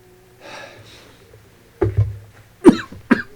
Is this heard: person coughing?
yes